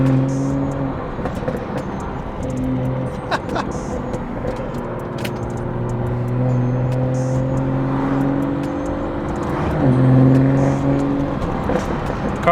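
A BMW with a B58 engine warms up while still cold, its intake and exhaust holding a steady droning idle with sustained tonal hums that shift slightly in pitch, a bit louder near the end.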